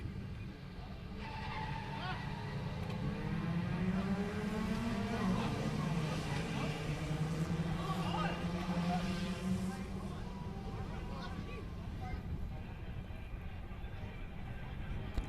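A one-make race start of seventeen Nissan March 1000cc cars on a circuit, a dense massed engine drone swelling as the field accelerates away, with rising revs and a tyre squeal under continuous commentary.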